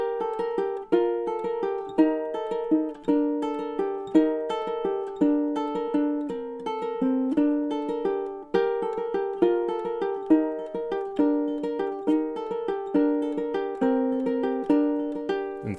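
A Christmas tune on ukulele, bass line and melody picked together in a steady, lively rhythm of bright plucked notes, played close and alone.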